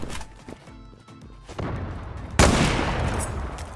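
AWP sniper rifle fire in the online shooter Zula: one loud, sharp shot lands near the end after quieter game sounds. A faint thump comes before it, and a broadband tail follows the shot.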